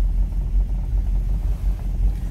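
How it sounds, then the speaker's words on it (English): A 1957 Buick Super Riviera two-door hardtop idles steadily, its engine giving a low, even rumble up close with no talking over it. "Great running car. Sounds very nice."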